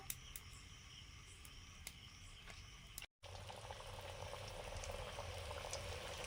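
A first batch of fish chops fries in hot oil on a rainy night, a soft continuous bubbling and fizz that stays quiet and steady, with a brief cut-out partway through.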